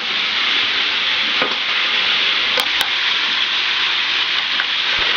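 Crushed garlic and onions stirred in a pan, a continuous bright sizzle held at an even level with a couple of faint clicks from the utensil.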